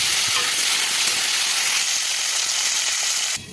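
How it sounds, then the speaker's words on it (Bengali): Potatoes frying in leftover fish-frying oil in a pan give a steady, close, bright sizzle and hiss with small popping crackles, dropping abruptly quieter just before the end. "মাছ ভাজার পরে যে তেলটা রয়েছে ওর ভিতরে আমি আলুটা ভেজে নেব।"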